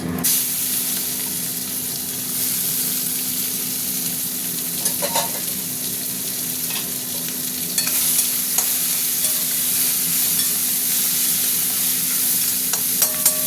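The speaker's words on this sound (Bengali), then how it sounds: "পেঁয়াজটা ভালো করে ভাজা ভাজা হোক" Onions fry with whole cumin in hot oil, a loud, steady hissing sizzle that runs without a break, with a few stirring scrapes and a faint background hum.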